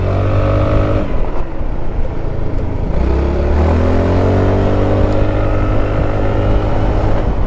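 A Honda Forza 350 scooter accelerates hard, its loud engine drone rising steadily in pitch through the gears, heard up close from the rider's position with strong wind rush throughout.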